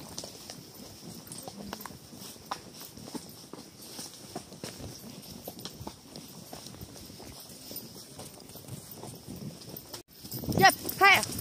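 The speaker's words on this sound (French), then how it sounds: "il y a des chevaux qui vont descendre en zigzag" Horses walk downhill in a zigzag on a mountain trail, their hooves clip-clopping in an irregular, moderately distant rhythm, followed by a man calling out to them loudly at the end.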